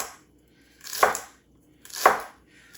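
A kitchen knife slices carrots, celery and onion into thin pieces for a cowboy stew, two distinct cuts about a second apart, each a short crisp chop against the board in a quiet room.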